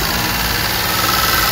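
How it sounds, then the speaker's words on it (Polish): Daewoo Matiz car engine repurposed as a power generator, running at a steady idle with a loud, close, continuous hum and vibration, no voices. "I ten silnik bardzo ładnie pracuje."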